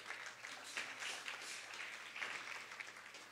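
At a regional final award ceremony in Panamá Oeste, an audience applauds as a medal presenter is received, a faint, distant patter of many hands clapping that swells and eases over a few seconds.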